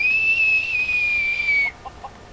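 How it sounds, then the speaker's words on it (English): A character in the modded Skyrim game whistles one long, steady, high tone that drifts slightly downward for nearly two seconds, then stops abruptly, leaving faint background hum. "Guess I'll whistle at this elf here."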